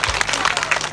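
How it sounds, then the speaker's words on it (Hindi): Audience applause at a centenary celebration of a hundred-year-old primary school in Uttarakhand, a dense burst of clapping filling the whole moment, loud and close with some crowd noise mixed in. "जोरदार तालियां बजती हैं"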